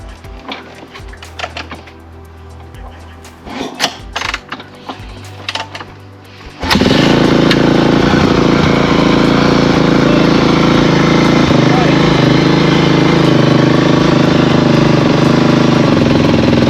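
A cold Kawasaki KX450F motorcycle with a titanium header starts up after a few seconds of clanks and shuffling, then runs loud and steady at a close, raspy idle.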